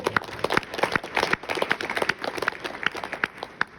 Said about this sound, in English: So round of applause for the success there.